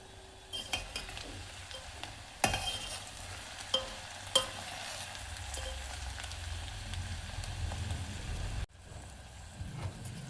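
Onions fry with salt in oil in a pan, a soft steady sizzle broken by occasional sharp clinks and scrapes of a spoon stirring, with a sudden brief drop near the end.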